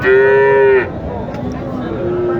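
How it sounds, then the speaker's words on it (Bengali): A cow gives one loud, close, drawn-out moo lasting under a second at a village cattle market (Mataji hat, Naogaon), followed by low crowd and market background noise. "বাজারের সেরা গরুটা"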